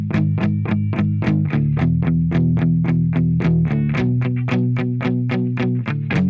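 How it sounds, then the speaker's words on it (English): Distorted electric guitar chugs palm-muted eighth notes in a tight, even rhythm, shifting between a few chord positions, loud and close, with no talking over it. "The second half of the verse we're palm muting distorted electrics."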